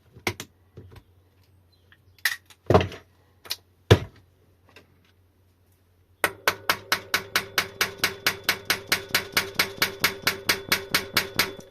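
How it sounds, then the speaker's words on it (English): Metal parts are hammered into a Powacycle Salisbury hub motor gear, first a few scattered sharp knocks, then a long rapid, even series of close, ringing hammer taps. "And you hammer them in, and you push down really hard."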